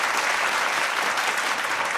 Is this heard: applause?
yes